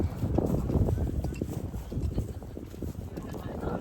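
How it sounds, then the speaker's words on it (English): Horses' hooves clip-clopping around the show ring at the Suffolk Spectacular show, a steady irregular patter of hoofbeats heard at a distance through crowd noise and an announcer's voice. "It's no easy job to get these horses going round and showing them off."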